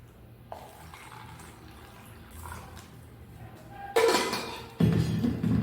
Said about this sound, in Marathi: दोन्ही ग्लासमध्ये सारखं पाणी टाकत आहे।